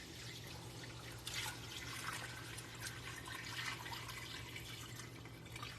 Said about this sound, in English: Add in some water or beef broth.